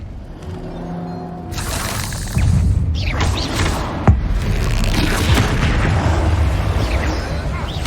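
Blasting Confringo spells explode during combat in Hogwarts Legacy, with loud booming bursts and crackling debris that fill the scene, including a sharp, heavy blast near the middle.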